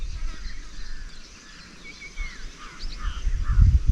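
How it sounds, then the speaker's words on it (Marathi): Several birds, including crows, chirp and call sparsely in the distance at dawn, with a low rumble swelling near the end. "प्राण्यांचा पक्ष्यांचा आवाज येतोय का"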